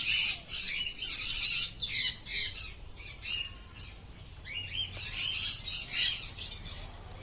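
Lutino lovebirds at a bird market give harsh, shrill squawks in repeated bursts, loud and close, with brief pauses between clusters of calls.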